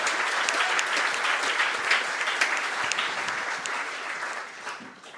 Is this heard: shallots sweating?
no